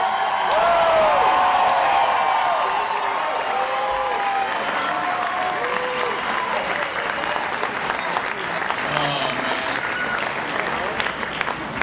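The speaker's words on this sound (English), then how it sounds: "How about a big applause for this?" Big, sustained applause from an election night crowd, dense clapping with scattered cheers and voices heard underneath, holding steady for about twelve seconds.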